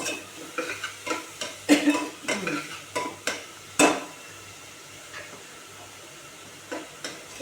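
Onions for pav bhaji fry in a pan while a spoon stirs them, giving a faint sizzle behind a quick run of scraping clinks and knocks that fade into quieter cooking toward the end.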